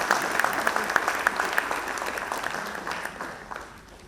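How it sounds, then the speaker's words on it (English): Audience applause at the BCIC 47th annual general meeting, a dense roomful of clapping hands held steady and loud before tapering slightly toward the end. "Let's give Dr. Devarajan another round of applause for his outstanding service as President of BCIC."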